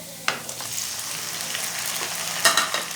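Chicken pieces frying with garlic in a hot pan for a bitter gourd and meat curry, a steady sizzle with a couple of louder crackling bursts as the meat is stirred, heard up close without talk.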